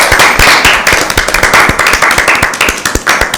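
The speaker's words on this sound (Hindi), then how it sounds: "अपने लिए ज़ोरदार तालियां बजाएं।" Dense applause for the winning teams at a school Bible quiz, many hands clapping close and loud in a steady crackle of sharp overlapping claps that runs unbroken for a few seconds.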